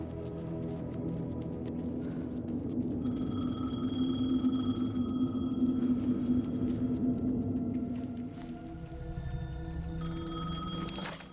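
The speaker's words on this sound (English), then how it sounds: "Payphone was ringing." A payphone ringing in the video game Alan Wake 2, steady electronic ring tones repeating over a low, continuous rumbling ambience.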